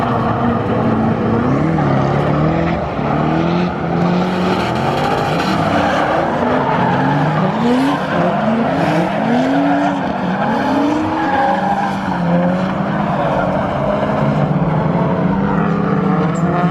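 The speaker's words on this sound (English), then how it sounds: "There's easily 15 cars on track." Many drift cars with 600+ horsepower engines run in tandem trains around a track, engines roaring loudly and tires squealing in repeated rising and falling sweeps with no break.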